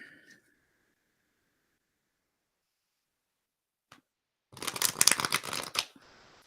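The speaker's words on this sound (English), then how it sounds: "One more shuffle." A deck of tarot cards is riffled in one quick, crisp burst of fluttering slaps lasting about a second and a half, close up, after a long quiet pause.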